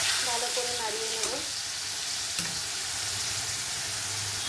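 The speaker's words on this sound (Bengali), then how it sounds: "এবারে জিরের গুঁড়ো দিয়ে দেব। ভালো করে নাড়িয়ে নেব।" Chicken mince with chickpeas frying loudly in a pan as cumin powder is stirred in, a dense continuous sizzle with a brief faint tonal sound early on and a utensil knock.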